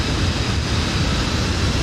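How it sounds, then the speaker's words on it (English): Landing gear extending on an Airbus A320 in a flight simulator gives a brief, steady rumbling whoosh of airflow and mechanism noise, loud and unbroken, with no voices. "Here comes the gear"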